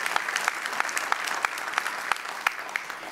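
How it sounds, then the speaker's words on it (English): Congregation clapping in a church during a sermon, a dense steady patter of many hands with a few sharper individual claps standing out, moderately loud and close, with no one speaking over it. "More than one of you need to clap for that."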